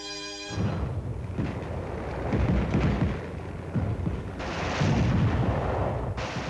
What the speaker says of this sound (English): The M14 is lightweight, semi or fully automatic. It fires the NATO standardized round of ammunition.